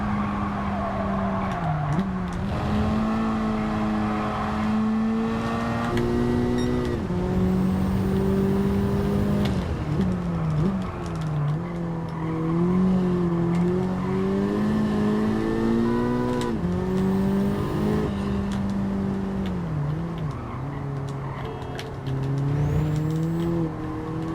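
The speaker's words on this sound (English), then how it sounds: "Car's very revvy." A Honda Civic endurance race car engine in Gran Turismo 7 revs and whines continuously, pitch rising and falling through gear changes, loud and close with no voices.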